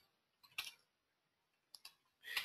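Computer keyboard typing in a quiet room: a few short bursts of key clicks separated by pauses, with a last cluster at the end, fairly faint and close.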